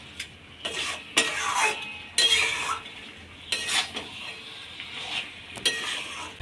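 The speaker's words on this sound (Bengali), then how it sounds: "এবার আমি মাংসটা ওর মধ্যে দিয়ে দেব। এবার আমি কিছুক্ষণ নেড়ে নেব।" Pieces of meat fry in spiced masala in a pan while a metal spoon stirs them. Repeated scraping strokes sound up close over a steady sizzle, with no talking.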